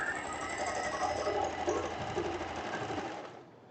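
A sewing machine runs steadily, stitching a straight seam on a short printed dress, a close continuous mechanical whir that winds down at the end.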